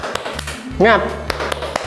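A single voice leads the 'tepuk semangat' chant while sharp claps ring out, a few spaced taps then a burst of three quick claps close by, mixed with speaking.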